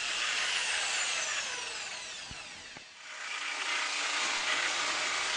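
A Bosch GST Professional jigsaw with a suitable blade cutting a resin kitchen worktop material such as Corian, giving a continuous high buzzing saw noise, fairly faint, with a brief dip midway before the steady cutting resumes.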